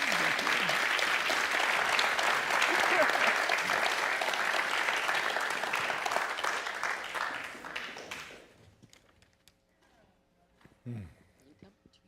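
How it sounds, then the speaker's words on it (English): Sustained audience applause after a panel Q&A, loud and dense for about eight seconds, then tapering off into near silence with a few scattered faint sounds. "Can we give them one more round of applause"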